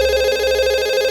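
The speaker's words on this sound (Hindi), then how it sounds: "देखा देखा, आ गया फोन।" A telephone rings steadily and fairly loudly in a home setting during a TV crime drama scene, a continuous electronic ring tone with no talk over it.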